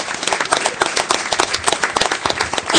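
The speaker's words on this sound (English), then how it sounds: "let's give them one round of applause for sticking with it" Audience applause for high school students from Madera South High School at a city council meeting, a lively patter of many hands clapping steadily with a few louder individual claps throughout.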